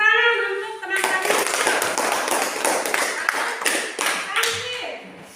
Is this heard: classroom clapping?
yes